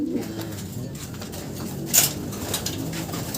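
Soft pigeon-like cooing from a champion racing bird in a noisy outdoor setting, with a brief brighter chirp or flutter standing out near the middle.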